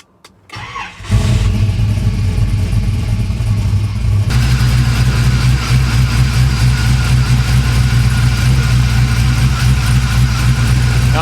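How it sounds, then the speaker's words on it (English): A truck engine cranks and fires, then settles into a loud, steady idle with the Vintage Air AC system running, continuous and without talk. "I'm gonna fire the truck up, turn on the AC."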